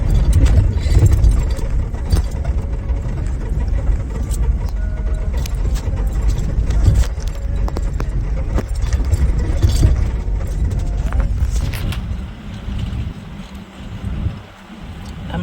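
A car drives back along a rough off-road mountain track between Mulkharkha and Sillery Gaon, its mid-pitched engine rumbling steadily with wind buffeting the microphone, loud and close throughout before easing slightly near the end.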